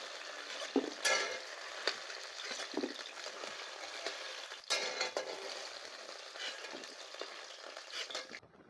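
White yam pieces sizzle and crackle in a frying pan while being stirred, a steady close hiss with occasional scraping of a spatula against the pan.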